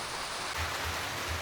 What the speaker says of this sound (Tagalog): Malakas pa rin po yung ulan, oh.